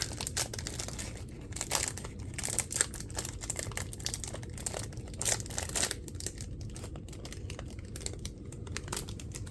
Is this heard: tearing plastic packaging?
yes